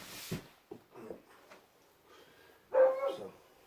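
A dog gives a few scattered barks and yips, mostly faint and distant, ending with one louder, closer bark.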